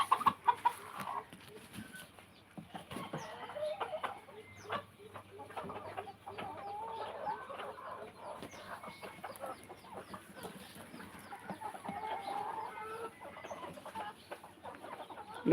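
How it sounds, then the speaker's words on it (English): Chickens cluck in a garden on a calm morning in a run of soft, scattered clucks and chatter at close to middle distance over a quiet outdoor background. "Look at that chickens here."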